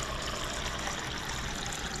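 Water is poured into a measuring cup to measure out two cups for cooking rice, giving a steady, close splashing rush that runs unbroken for the whole moment.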